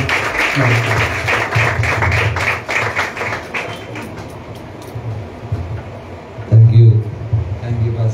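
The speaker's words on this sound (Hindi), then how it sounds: "आइए हम जोरदार तालियों के साथ हमारे पासवान का स्वागत करेंगे" A church congregation applauds to welcome a pastor at a revival thanksgiving prayer day, a loud, steady run of clapping that fades under someone speaking, ending in a thump.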